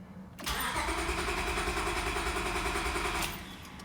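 A 2002 Acura TL-S engine cranked by the starter, a loud steady whirring grind lasting about three seconds that starts abruptly and cuts off without the engine catching, close up with no talk.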